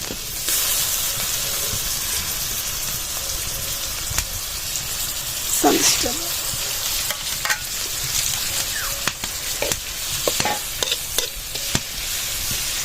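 Red amaranth greens frying with garlic and onion over a village clay stove, giving a steady broadband sizzle and hiss with occasional stirring scrapes and brief clicks, continuous throughout with no voices.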